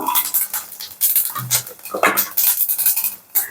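Cumin seeds and dried red chillies tipped into a hot pan for Kerala vadacurry, with metallic clinks, scraping and stirring bursts repeating close up, no voice.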